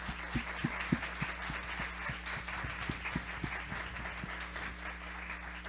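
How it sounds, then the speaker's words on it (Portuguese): Audience at a school event applauds students, scattered claps sounding faint and distant over a steady low hum. "um aplauso para os meus alunos que estão lá"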